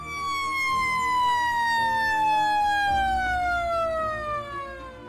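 A loud warning siren at a coal plant demolition wails steadily, its pitch sliding slowly downward over several seconds with a low rumble beneath.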